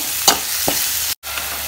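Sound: mixing banana flower stir-fry with egg in pan

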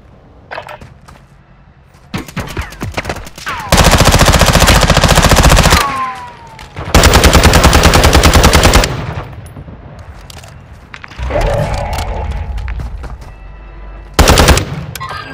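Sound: gunfire in video game Call of Duty: Modern Warfare II Warzone

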